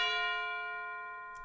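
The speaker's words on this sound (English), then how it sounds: "And then we have the tubular bells." Tubular bells in an orchestral sports cue sound one bright, ringing strike that decays slowly over about a second and a half, alone and close.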